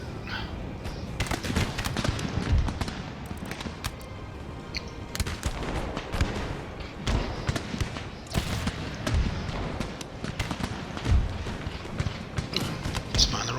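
Ragged musket volleys from line infantry on a sloped battlefield in the Empire: Total War game, modded with Darthmod. Dense, overlapping cracks repeat nonstop over a rumbling battle bed at mid distance.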